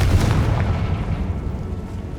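Confringo spell blast in Hogwarts Legacy, a heavy booming burst up front that rolls off into a fading rumble.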